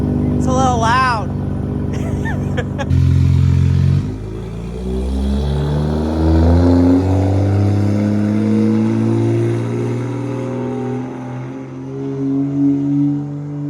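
A Toyota Mark V Supra with a loud exhaust revs close by, engine pitch sweeping up sharply in short bursts and then settling into a steady, rumbling idle that carries on throughout.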